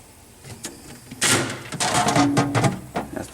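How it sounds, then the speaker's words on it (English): Freezer door of a Criterion compact 4.4 cubic foot refrigerator, model CCR44CE1W: light handling clicks, then a sharp clunk of the door followed by rattling, scraping knocks and a brief squeak, close by and moderately loud. "That's the freezer door."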